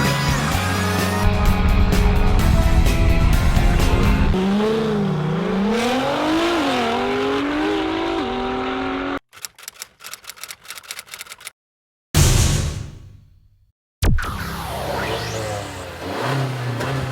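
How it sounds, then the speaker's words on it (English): A turbocharged 2016 Honda Civic accelerates from inside the cabin, the engine note rising and shifting loudly, then breaking into choppy, cut-up bursts with short gaps of silence. "It sounds like a Honda with a turbo"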